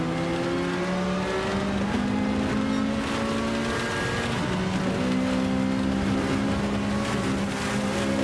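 A Ferrari race car engine drives the Nürburgring GP circuit in a racing video game, making a loud, continuous, buzzing engine note whose pitch rises and dips with throttle and gear changes.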